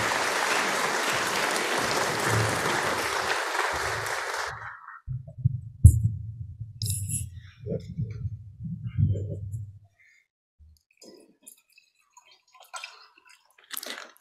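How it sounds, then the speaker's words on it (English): An audience claps to welcome a lecturer at a university talk on the digital revolution, dense broadband applause lasting about four seconds before fading into scattered low thumps and quiet room noise. "Please applaud"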